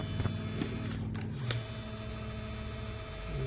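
Ryobi cordless caulk gun with its motor driving the plunger forward at a fast speed setting: a steady low mechanical hum and whir, close by and fairly quiet, with a brief click partway through.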